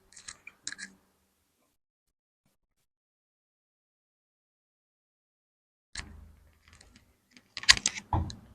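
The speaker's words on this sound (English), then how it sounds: "So we are going to cut it." Scissors cut Ankara fabric for a men's button-down shirt, with a short burst of snipping at the start, then a long silence before a cluster of crisp, close blade clicks and rustling fabric near the end.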